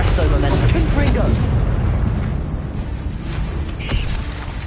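A Confringo spell explosion in the video game Hogwarts Legacy, a loud booming blast that fades to a rumbling tail.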